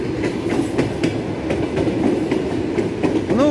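A commuter train rolls past the Serp i Molot railway platform in Moscow, loud and close, with rhythmic clickety-clack of wheels over rail joints and a brief squeal near the end.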